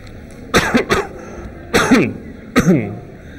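Three separate coughing fits, each a pair of harsh, close bursts, spaced about a second apart with quiet in between.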